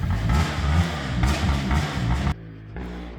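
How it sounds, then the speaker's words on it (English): A motorcycle engine that keeps stalling revs hard in uneven surges, then abruptly drops to a lower, rougher idle for the final second. "That guy's bike keeps conking out. Maybe because he's flooding it and over revving it."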